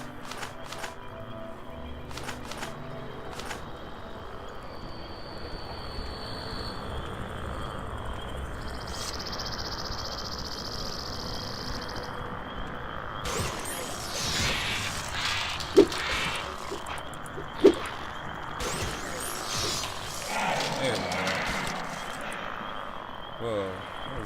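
Swamp ambience in the video game Morrowind, with frogs croaking and insects chirring in a continuous dense bed, a few sharp clicks and sounds rising partway through, and a faint voice now and then.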